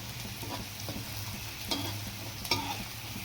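Onions sautéing in ghee for dal fry, a steady soft sizzle with occasional stirring scrapes, two slightly sharper strokes near the end, close and quiet, with no voices.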